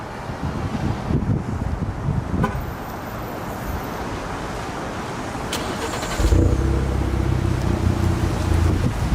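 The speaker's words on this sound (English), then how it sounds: "I'm gonna go ahead and do the remote start." Alfa Romeo Giulia with a modified, sportier exhaust started by remote: outdoor wind and faint ambience, a few clicks, then the engine catches and settles into a loud, steady low idle for the last few seconds.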